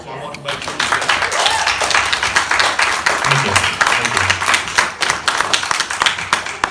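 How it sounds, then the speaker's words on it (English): Town hall audience in Macon, Georgia giving a round of applause, loud close clapping with distinct individual claps in a quick uneven rhythm, while voices talk over it. "So you deserve a round of applause."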